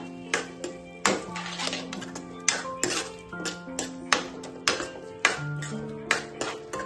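A small spoon clinks and scrapes against a dish while spicy masala powder is mixed in for a tawa bread pizza topping, giving a series of sharp, close taps in an uneven rhythm with no talking.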